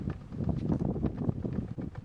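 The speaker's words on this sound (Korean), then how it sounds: "갑자기 바람이 불기 시작했다" Wind starts to blow over a rural village and rises into gusts, a rough, buffeting rumble against the microphone that pulses irregularly and fairly loudly with no one speaking.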